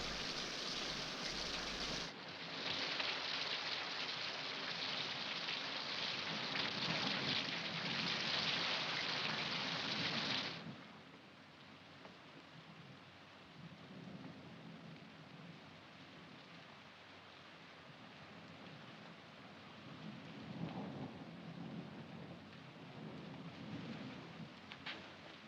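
Heavy rain pours with a deep rumble of thunder, loud for the first ten seconds before easing into a softer, steady downpour with further low rolls of thunder later on.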